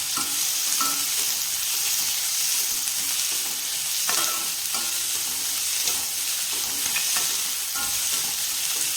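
Onions sauté with chopped green chillies in a pan for dal khichdi, giving a constant sizzle broken by frequent spatula scrapes and clinks as they are stirred.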